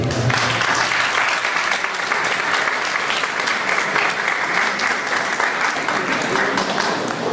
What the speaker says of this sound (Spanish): pido se le brinde nuevamente un fuerte aplauso